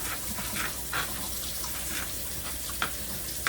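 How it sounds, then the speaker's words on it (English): Water runs steadily from a kitchen tap while cooking, a continuous close splashing stream with a few brief clatters, and no voices. "I know they say sometimes I turn the water on."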